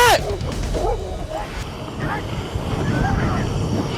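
A pack of street dogs yelps and barks near the start amid a busy, noisy background, followed by scattered whines and yips.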